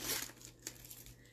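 Scissors snip and tear open a paper cake mix package, giving close, faint crinkling and a sharp cut in a quiet kitchen.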